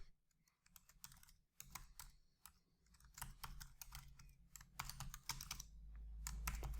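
Rapid keyboard typing on a computer, bursts of close clicky keystrokes with brief pauses in between, steady and moderately quiet with no talking.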